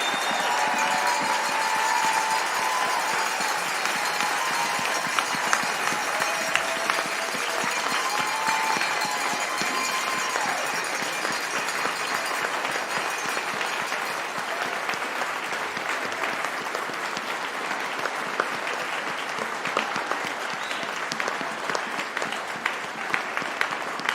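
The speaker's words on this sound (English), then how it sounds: "One more big round of applause for all of our graduate students." Sustained, steady applause from a large audience for graduate students at a Faculty of Management convocation ceremony, dense and even for over twenty seconds.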